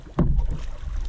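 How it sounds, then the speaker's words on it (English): A kayak paddle strikes and pulls through the water of Black River in one brief, close splash, followed by a soft wash of moving water and wind. "keep paddling that side"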